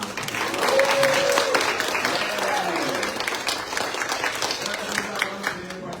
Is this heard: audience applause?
yes